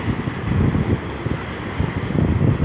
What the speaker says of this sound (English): We have some waves going on here.